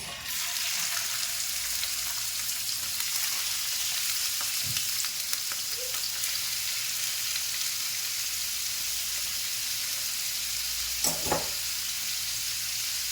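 Prawns fry in hot coconut oil in a pan, giving a steady, close sizzle with occasional faint clinks and stirring sounds.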